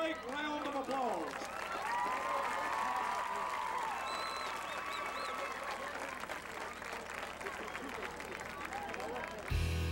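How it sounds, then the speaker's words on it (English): A stadium crowd at a Friday night high school football game applauds the homecoming queen, a distant, continuous spread of clapping and cheering under a voice talking up close. "Please join me in giving our queen another great round of applause."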